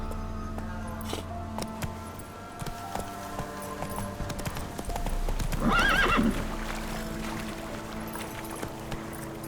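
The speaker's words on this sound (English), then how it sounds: "Come on, Roach" Roach, a horse in the video game The Witcher 3: Wild Hunt, hammers out a steady clip-clop of galloping hooves with a brief neigh midway, loud and close over soft game ambience.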